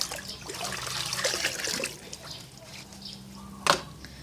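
Liquid organic fertilizer, a milk-based hormone mix, trickles and pours quietly into a container of water, with a soft splashing dribble and a brief clatter near the end.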